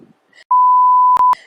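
A loud, steady electronic beep tone holds for nearly a second, dipping for a split instant before ending, with faint murmuring just before it.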